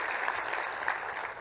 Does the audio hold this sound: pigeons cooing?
no